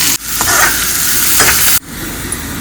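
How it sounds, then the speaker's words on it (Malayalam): Onions sautéing in coconut oil in a pan on a gas stove, a loud continuous sizzle with stirring scrapes, cut off abruptly near the end and resuming at a lower level. "വെളിച്ചെണ്ണയിലാണ് ഉള്ളി വഴറ്റുന്നത്."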